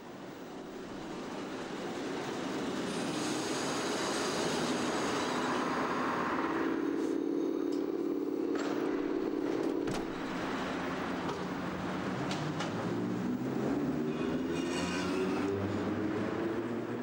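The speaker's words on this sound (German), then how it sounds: "Jetzt mit ungewohnten S-Bahn-Fahrzeugen" An S-Bahn train of a type formerly used only on the eastern network runs through a Berlin Stadtbahn station in summer 1990, a steady loud rumble with rising and falling motor whine and rail noise throughout, no voices.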